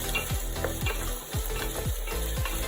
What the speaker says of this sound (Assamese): এইখিনি মই ৰঙচুৱা হোৱালৈকে পিঁয়াজ আদা নহৰুখিনি ভাজি ল'ম